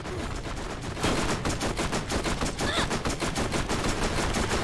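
A deployed turret in the Borderlands video game fires a rapid, steady stream of loud gunshots that runs without pause for several seconds.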